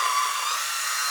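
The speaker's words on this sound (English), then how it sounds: "this hand mixer will work." An electric hand mixer whirs steadily at a constant pitch, a continuous high motor whine running alone and fairly loud, pressed into use in a home kitchen after a blow dryer burned out.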